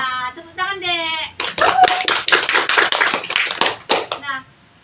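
A group of children in a classroom session claps for several seconds, crisp rapid hand claps close by, with a voice speaking just before and right after.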